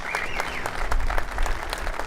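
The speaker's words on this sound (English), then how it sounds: "How about giving those guys a big round of applause, Ronnie Day and all the staff there." A crowd claps in steady applause, dense and continuous throughout the short stretch.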